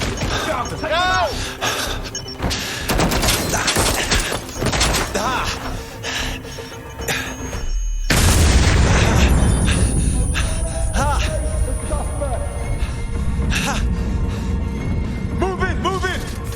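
Heavy gunfire and crashing impacts from an Albion squad in a video game firefight, dense bursts and shattering hits layered throughout, with a loud blast midway and shouted voices over the chaos.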